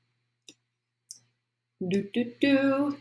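Two faint, sharp mouse clicks about half a second apart while installing an app, followed by a person speaking.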